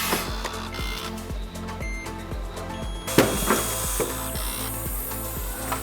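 A heat press closing for a quick post-press on a heavy cotton tee gives off a run of rapid, regular mechanical clicks like a ratchet, with a sharper clunk midway as the platen comes down.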